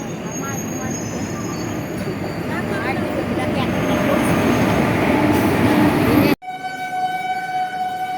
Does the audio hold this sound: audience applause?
no